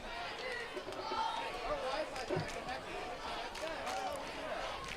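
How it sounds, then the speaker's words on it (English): A football crowd chants "defense" in rhythm at a District 1 6A high school playoff game, a steady roar of massed voices spread across the stands. "Crowd chanting defense."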